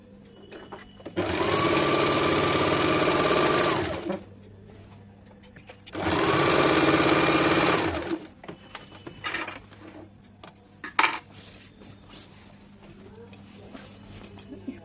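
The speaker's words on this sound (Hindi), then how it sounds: "इस साइड वाला हिस्सा 1/2 इंच पे जोड़ के सिलाई करके इसमें भी चाप सिलाई डाल देंगे" A sewing machine stitches a seam on a six-panel petticoat in two steady runs of about three and two seconds, close and loud, separated by a pause and followed by quieter handling.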